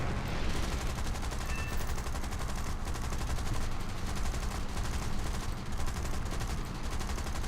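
Aircraft machine guns fire in the air-combat game War Thunder, a continuous, dense, loud rattle over a steady roar that holds unbroken throughout.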